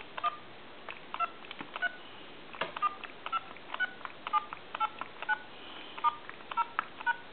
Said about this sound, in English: I'm going to go ahead and dial some numbers.